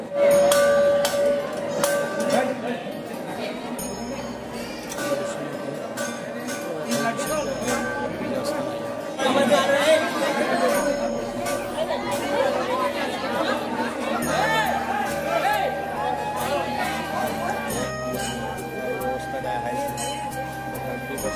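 Dense crowd chatter fills the grounds of Murdeshwar temple, a steady murmur of many voices with occasional clinks and knocks, continuous and fairly loud throughout.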